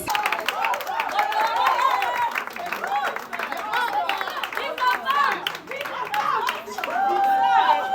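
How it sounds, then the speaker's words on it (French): Scattered clapping from attendees at a certificate award ceremony, ongoing beneath a speaker's voice and nearby talk that dominate throughout. "Applaudissons."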